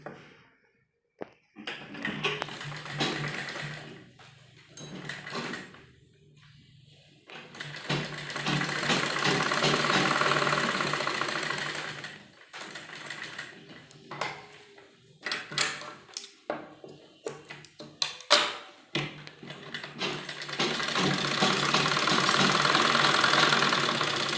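A sewing machine runs in bursts while stitching a folded seam over tape on a kurti, with stops and starts between stitching runs and a steady mechanical whir during the longer passes.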